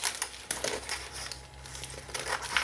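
Scissors cut through a thin rub-on transfer sheet with a few close, crisp snips and papery crinkles, quiet with no voices.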